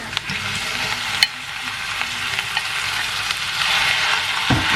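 Minced beef stir-fried in a pan gives a steady close sizzle throughout, broken by a few sharp scrapes and clacks of a utensil against the pan, with no talking.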